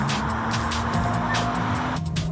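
BMW 135i Coupe with a 3-litre twin-turbo engine driving hard, a loud steady engine roar with wind and road noise that eases briefly near the end.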